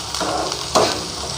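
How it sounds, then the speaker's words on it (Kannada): Chopped onions sizzle steadily in a hot pan for a potato and peas kurma, with a brief louder burst of stirring partway through; no voices. "ನೀರುಳ್ಳಿ ಸೇರಿಸಿ ಚೆನ್ನಾಗಿ ಫ್ರೈ ಮಾಡ್ಕೊಳ್ಳಿ ಎಲ್ಲ."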